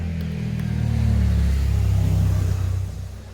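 Road traffic from a nearby road rumbles steadily as a car engine swells and fades in a low drone, fairly loud throughout with no talk.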